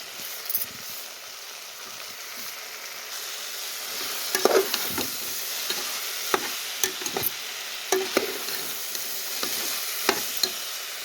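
Black-eyed peas and tamarind fry in a pan with a steady, fairly quiet sizzle, broken by a string of sharp clicks and scrapes as a spoon stirs them.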